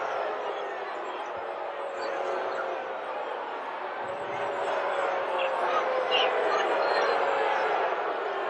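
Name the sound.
home crowd booing the referees' call at basketball game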